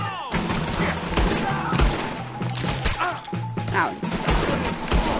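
Gunfire in Red Dead Redemption 2 during a shootout, dense bursts of loud overlapping shots and impacts with a brief spoken word among them.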